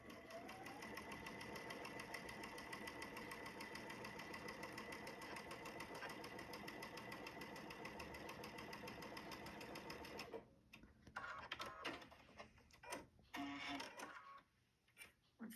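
A sewing machine runs fast, stitching a quarter-inch seam with a steady mechanical whir and rapid rhythmic clatter, then stops and leaves quieter handling noises and short bursts of activity.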